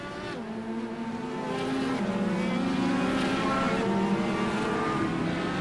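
IndyCar race cars in pit lane in the iRacing simulator, engines droning and revving steadily with a rising, sustained whine, loud and continuous without talk.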